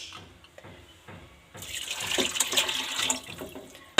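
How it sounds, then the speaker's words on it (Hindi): Milk poured into a pot holding chana dal, a short quiet start followed by a steady splashing pour that builds, then tapers off near the end. "आधे किलो चने की दाल लिए तो आधा किलो ही इसके अंदर हम दूध लेंगे"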